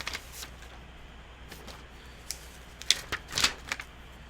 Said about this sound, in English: I like hearing your extensive notes being moved.